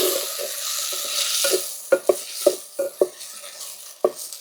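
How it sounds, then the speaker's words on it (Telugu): Okra and eggplant being stirred in a pan with tomatoes for Andhra salted-fish eggplant stew, a steady close sizzle broken by a run of sharp utensil knocks and scrapes against the pan. "ఇందులో కట్ చేపి కట్ చేసుకున్న బెండకాయలు వంకాయల్ని ఇందులో వేసుకుంటున్నాను ఇప్పుడు ఒకసారి మొత్తం తిప్పుకుందాము"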